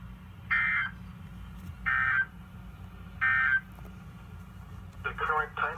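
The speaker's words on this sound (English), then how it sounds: "This is a test of the NWR radio warning alarm device and the emergency." An NWR weather radio warning alarm and emergency alert system test sounds as three loud, evenly spaced two-tone alert bursts, followed by a short burst of harsher digital data tones.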